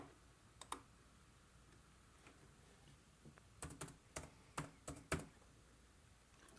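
Keys on an HP laptop keyboard are tapped to type into a search bar, a few isolated clicks followed by a quick run of sharp, close keystrokes in a quiet room.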